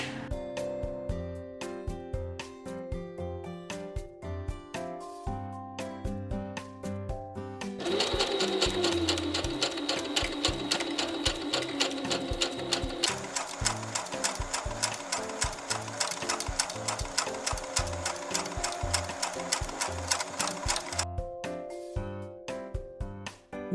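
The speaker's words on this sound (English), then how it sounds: "Turn on the sewing machine." A domestic sewing machine fitted with a cording presser foot stitches fabric over gathering cords, a steady close mechanical whir with fast rhythmic needle clatter that speeds up partway through and keeps running without pause.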